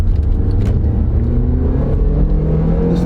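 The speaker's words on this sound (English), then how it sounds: "Listen to the engine." A car engine runs steadily at close range, a smooth low hum with slight rises in pitch as it revs, no talking.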